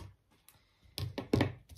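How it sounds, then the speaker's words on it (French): Several sharp thunks and clatters as metal scissors are set down on a hard table, close by, in quick irregular succession. "Quand on pose les ciseaux, c'est vrai que..."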